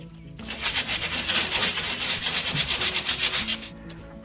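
80 grit sandpaper scrubs back and forth over hard wood putty on a 4x4, a close, loud, rhythmic rasping in quick even strokes that stops abruptly near the end.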